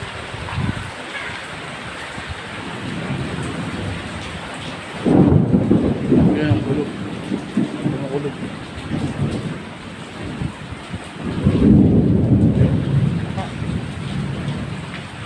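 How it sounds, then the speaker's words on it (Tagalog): A thunderstorm at a farm, with steady rain pattering on surfaces throughout and two heavy rolls of thunder rumbling loudly, each swelling and fading over a few seconds. "Kumukulog."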